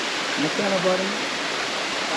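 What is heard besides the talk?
Manneera waterfall, Konni, Pathanamthitta, Kerala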